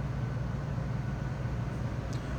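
Stock exhaust on a 2001 Cadillac Eldorado ESC, an unmodified system giving a low, steady, fairly quiet rumble heard on its own without any voices.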